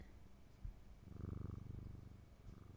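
A cat purring in the video game Strange Antiquities, a soft, low rumbling purr that swells and holds steady over a couple of seconds, close and fairly quiet, with no talking.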